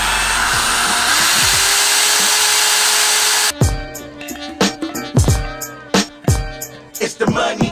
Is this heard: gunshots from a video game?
no